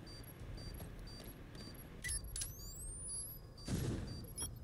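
Video game gunfire crackles in a few sharp shots, with a distinct pair of reports spaced apart, heard over a low background hum and faint electronic tones.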